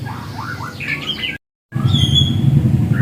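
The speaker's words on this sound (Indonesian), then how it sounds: "kalau berkebun pagi selalu ramai dengan kicauan burung, saling bersahut-sahutan ya" Birds chirp and call in a morning rooftop home garden, with several bright, close tweets over a steady background hum, a brief dropout midway, then a thinner high whistle.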